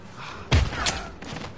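Gunshot from the video game Heavy Rain: one sharp, loud blast with a heavy low thump, followed by a second burst and fading reverberant noise, with no voices.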